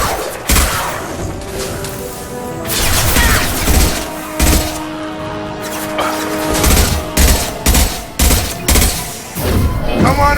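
Gunfire in the video game Mass Effect Legendary Edition, repeated loud shots and thumping impacts in quick bursts under a combat soundtrack.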